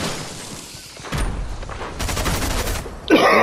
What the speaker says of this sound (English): Damn these double barrel shotguns.